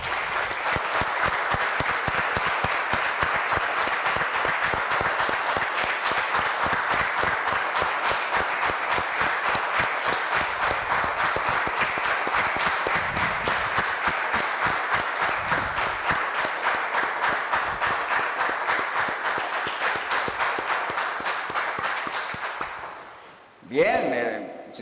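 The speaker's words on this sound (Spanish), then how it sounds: "Damos un aplauso, hermanos," A church congregation gives sustained, dense applause for nearly the whole stretch, a steady wash of many hands clapping that fades and then cuts off abruptly near the end.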